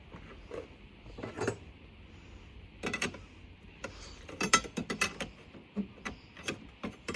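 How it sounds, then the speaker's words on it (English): Seat runner mounting bolts are tightened on an MG B, with bursts of ratcheting clicks and short metallic creaks in uneven clusters over faint background quiet. "So I'm just finishing off the last of the mounting bolts now."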